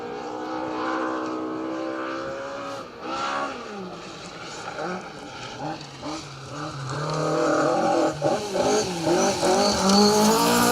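A rally car runs through a forest stage of the Roger Albert Clark Rally, its engine rising and falling through gear changes and growing louder as it nears. A commentator talks over it throughout.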